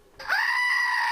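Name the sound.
goat figurine toy making a bleating goat sound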